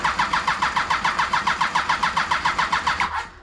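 A Kawasaki Voyager XII motorcycle with bad gas cranks on the starter, a loud rapid rhythmic chugging of about twenty even pulses that runs steadily then cuts off without catching, close up with no talk.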